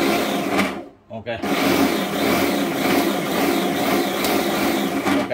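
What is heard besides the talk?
electric meat grinder being test-run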